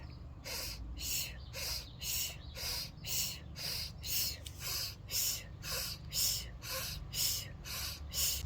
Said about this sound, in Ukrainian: Дуже-дуже гарненько надуваємо живіт. Це у вас буде таке брюшне дихання.